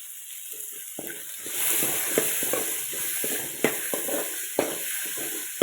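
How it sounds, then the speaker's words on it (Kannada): Tomato goes into a hot pan and fries with a steady soft sizzle, punctuated by sharp clicks and scrapes of a spoon stirring against the pan at an uneven pace. "ಆಮೇಲೆ ಟೊಮೆಟೊ ಆ್ಯಡ್ ಮಾಡ್ತಾ ಇದ್ದೇನೆ."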